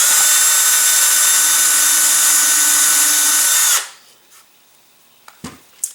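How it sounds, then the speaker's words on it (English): Power drill boring a hole for an aft rail button on an upscale Estes Ninja high power model rocket, a loud steady whine for nearly four seconds that spins down, followed by a few light handling knocks. "Alright, the hole for the aft rail button is drilled."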